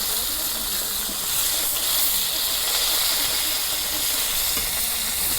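A piece of Mirka fish fries in very hot oil in a Bangladeshi home kitchen for a traditional bhuna, giving a steady, dense sizzling hiss that stays even and close with no talking.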